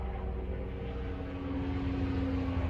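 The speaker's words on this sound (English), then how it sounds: "Helicopter." Helicopter flying overhead outdoors, a steady loud low rotor and engine drone holding throughout with a faint tonal whine, no talk over it.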